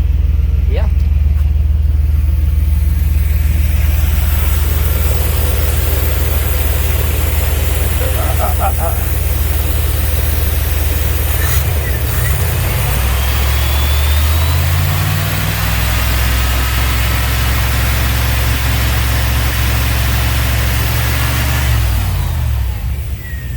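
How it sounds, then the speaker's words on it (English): A 1995 dually work truck with 200k miles, treated with Seafoam, runs loudly up close: a deep rumbling idle rises into revving with climbing pitch, then settles back toward idle, while people talk over it. "let's rev it up a bit and see what happens now, and see how the smoke comes out"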